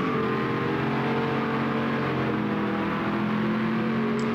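A Ford GT40 in the GT Legends racing game holds a loud, steady engine roar under acceleration, its pitch climbing slightly across a few seconds with no talk over it.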